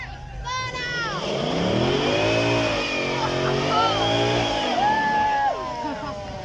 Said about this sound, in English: Give us a burnout, you know you want to.